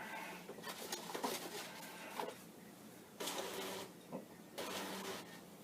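Tractor-feed printer on a Commodore PET 8032 advancing fanfold paper, three separate bursts of rapid mechanical chattering, each lasting about a second, with quiet gaps between them, close and moderately loud.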